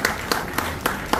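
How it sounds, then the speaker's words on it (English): Scattered claps at a traditional engagement ceremony, five sharp isolated hand claps spaced about a quarter second apart over a steady room hum, fairly close and moderate in level. "Oh, give us a round of applause too."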